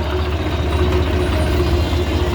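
A tractor engine idles nearby on a farm doing earthwork, a loud, steady low rumble that continues without a break.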